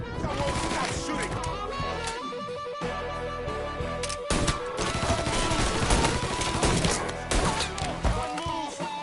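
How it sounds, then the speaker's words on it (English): Video game gunfire in a chaotic firefight: rapid automatic bursts and sharp impacts crowd together almost without pause, loud and up front, with crashing hits and shouting voices mixed in. "Someone stop shooting!"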